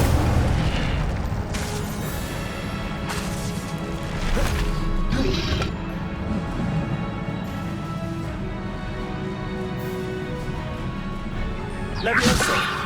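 Incendio fire spell cast in Hogwarts Legacy, heavy crashing, booming impacts recurring several times amid combat noise and a speaking voice, with a sharp burst near the end.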